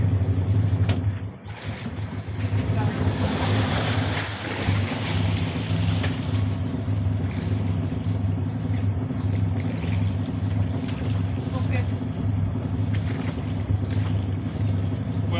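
A sailboat's engine idles with a steady low rumble while docking, its tone dropping as the throttle eases off, with faint water and hull noise alongside.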